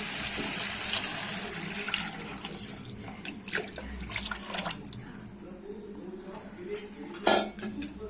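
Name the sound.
pouring liquid into a cooking pot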